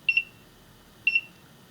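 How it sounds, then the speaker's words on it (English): A vaccine fridge temperature monitor's beeper gives two short double-chirp beeps about a second apart, clear and fairly close, with a quiet hum in between. "push the set button quickly and it will turn on a beeper"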